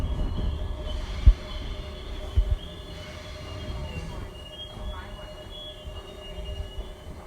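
A train rumbles into Argyle Street station on Glasgow's low level line, with a steady low rolling drone, a couple of brief clanks, and faint metallic squeal throughout.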